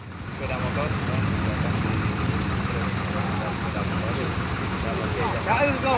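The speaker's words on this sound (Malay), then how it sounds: "Sepeda motor." Motorcycle engines rumble steadily in a flooded holiday traffic jam at a junction, a continuous close idling drone with faint background voices.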